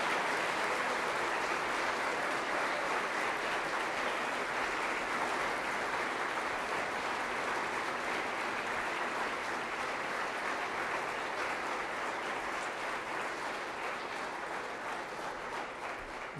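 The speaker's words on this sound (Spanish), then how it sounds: "quiero que realmente les demos un caluroso y fuerte aplauso por lo que ellos son." A church congregation gives warm, strong applause, an even, continuous wash of clapping heard from a distance at moderate volume, with no speech over it.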